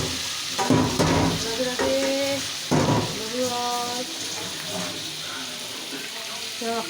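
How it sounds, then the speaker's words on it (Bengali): An egg is dropped into a hot pan and fries with a loud, steady sizzle, swelling in two sharper bursts as it hits the oil. A voice talks over the crackle throughout. "এই ডিম আছে তো দিয়ে দিচ্ছি"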